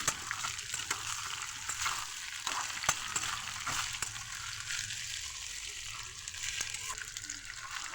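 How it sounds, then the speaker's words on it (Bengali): Potatoes with ground spices and a splash of water frying steadily in a pan, a continuous hiss with scattered scraping stirs over it; faint background noise and no clear speech. "এবারে এটা আমি নেড়ে নিচ্ছি। আরেকবার আলুটা ভালোভাবে ভেজে নিলাম।"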